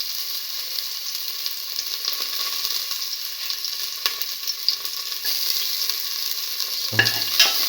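Ginger sizzles steadily in a hot frying pan while potatoes and French beans are cooked, a bright continuous crackle with occasional clicks and a brief low bump near the end.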